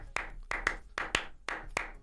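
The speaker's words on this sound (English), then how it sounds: "So clapping on everything but the one sounds like this." Hands clapping off the downbeat in a 10/8-12/8 pattern, sharp close claps grouped in pairs and single hits at a steady rhythm, with no talking.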